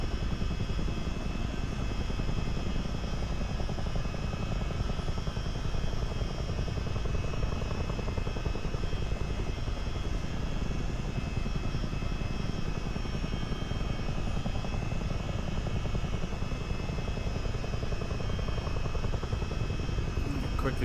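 A CH-47D Chinook helicopter flies in a multiplayer flight simulator game, its rotor and engine drone forming a constant heavy thrum with a whining tone over it, steady and unbroken for the whole stretch.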